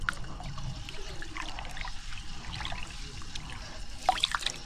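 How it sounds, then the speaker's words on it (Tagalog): Rice being rinsed in water by hand before cooking, with steady close trickling, sloshing and dripping throughout and a few sharper splashes near the end, no talking. "hugasan muna natin yung bigas"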